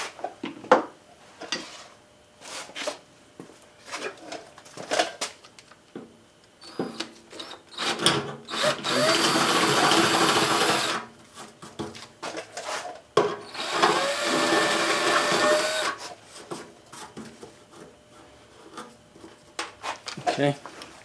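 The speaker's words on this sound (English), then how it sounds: "This one here we're going to have to drill." Power drill boring out a stuck fastener near the rubber floor mat of a Ford F100 pickup, two sustained grinding bursts with clatter and someone talking between them.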